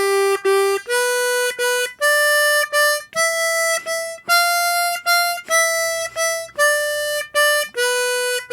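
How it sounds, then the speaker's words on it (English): Blues harmonica plays a draw chord bass line in swung eighths, short paired chord blasts rising and falling in a loping long-short rhythm, loud, close and alone. "So our draw chord bass line will sound like this."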